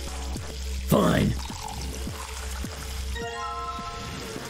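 Water pours into an empty jar in the game Zero Escape: Virtue's Last Reward, a short loud gush over a steady game music bed, with a person briefly talking.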